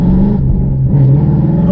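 A loud 550 HP Ford Mustang in town gives a brief, close, deep engine rumble that dips and swells slightly over under two seconds.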